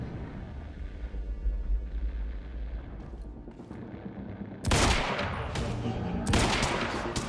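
Pistol fire in Quantum Break comes in two loud bursts of rapid shots, close and harsh, following a stretch of low rumbling game ambience.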